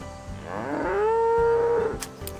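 A single cow on a farm lets out one long, loud, drawn-out moo that rises and then holds steady, set against a repetitive musical backing.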